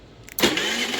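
A Predator 3500 generator fires up by remote start. After a short quiet click, the engine catches abruptly and settles into a steady, close mid-pitched running drone.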